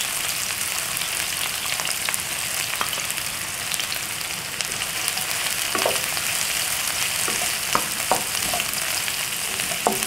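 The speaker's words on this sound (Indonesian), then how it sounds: "Kita tumis bawang merahnya. Kemudian bawang putih." Shallots and garlic sautéing in a pan: a dense, loud hiss of frying oil runs throughout, broken by scattered light clicks and scrapes of a stirring utensil.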